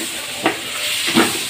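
Sisig frying on a hot griddle, a steady close sizzle with two short louder bursts of hissing as the meat is stirred or turned.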